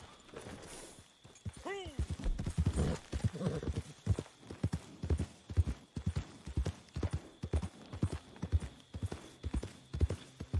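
Horse hooves clip-clop in a steady, even rhythm close by in the video game Red Dead Redemption 2, with a brief whinny-like snort near the start.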